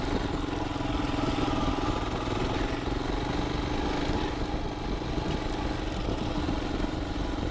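A 2021 Royal Enfield Himalayan motorcycle rides on wet roads after a tropical storm, its single engine held to a low, steady drone at moderate revs, with a continuous mid-pitched hum and no talking.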